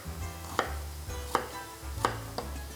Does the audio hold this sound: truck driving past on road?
no